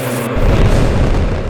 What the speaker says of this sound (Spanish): Cientos de fuegos artificiales en el horizonte.